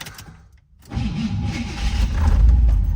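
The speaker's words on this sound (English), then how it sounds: "let's go ahead and start the car" A 1974 Corvette convertible's 454 engine cranks briefly after a moment of quiet, then catches and settles into a steady, loud running rumble close by.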